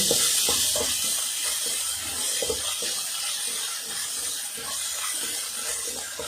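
Misal masala with coriander and coconut sizzles and hisses steadily as it is sautéed in a pan, a continuous soft frying sound with faint stirring scrapes and no talking.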